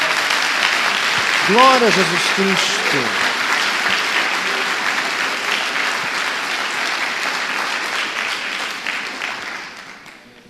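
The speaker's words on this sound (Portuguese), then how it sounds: "Dê uma salva de palmas a Jesus." A church congregation applauds steadily for about ten seconds, with a voice praising over the start of the clapping. The clapping fades toward the end.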